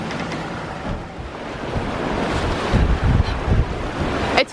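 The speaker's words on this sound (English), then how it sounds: "Very confused sea in here." Rough, confused sea water churns and splashes continuously while wind gusting to about 23 knots roars across the microphone, loud and close throughout, at sea aboard a sailboat in Turkey.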